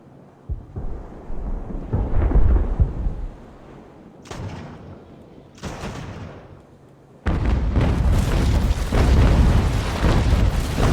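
Sailing warships trade cannon fire in a naval battle in the video game Ultimate Admiral: Age of Sail, heard as deep rumbling booms and sharp blasts, with a loud, sustained barrage swelling up in the second half.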